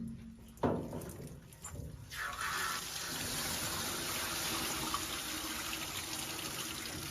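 Water runs steadily, rinsing shampoo off a dog during a grooming bath. A short knock comes first, then a continuous spray that holds level to the end with no talking.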